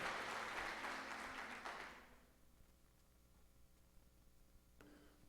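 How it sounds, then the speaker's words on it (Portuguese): Congregation clapping during a Thursday evening church service, a steady wash of applause that fades out after about two seconds, leaving quiet room tone and a faint tap. "Se é para Jesus, você pode aplaudir melhor"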